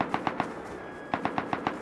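Automatic AK rifle fire during a PvP fight in the video game Rust: two short strings of evenly spaced shots, moderately loud, separated by a brief pause.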